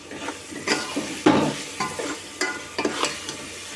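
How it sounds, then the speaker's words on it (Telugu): Village-style dried fish curry made with pandukappa fish, stirred in a pan with a series of scraping, sloshing strokes over a soft sizzle, close by and without talk. "ఒకసారి కర్రీని మొత్తం మళ్ళీ కలుపుకుందాం."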